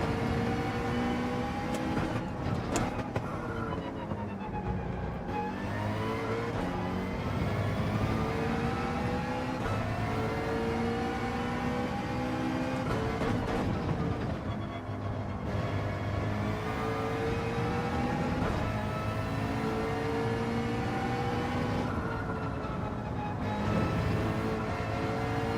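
A McLaren race car in Gran Turismo 7 at a manufacturer series test, its engine note steady and loud throughout, rising and falling through gear changes with no talking over it.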